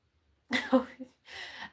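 A couple of short, harsh coughs close by, followed by a breathy throat-clearing sound, with silence before them.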